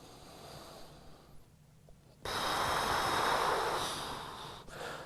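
Nasal breathing during a yoga lunge, steady airflow with a quieter inhale followed by a louder, sustained breathy exhale that trails off near the end; close and alone, no talk.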